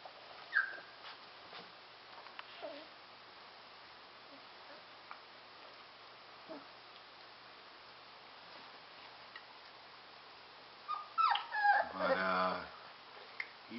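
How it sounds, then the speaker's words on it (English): A litter of four-week-old Airedale puppies whimpers and yips faintly in short scattered bursts, then breaks into a louder cluster of growling and scuffling near the end of the stretch. "Somebody's growling and trying to get up there now."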